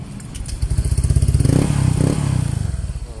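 Motorcycle engine idling close by with a steady low, rapid pulsing exhaust beat, a freshly replaced muffler fitted, rising slightly in the middle then holding steady, with some light rattling on top.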